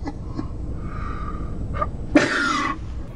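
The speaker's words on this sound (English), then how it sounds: "I'm gonna sneeze." A child sneezes once, a short sharp burst breaking an otherwise quiet indoor room, with soft breathy sounds before it.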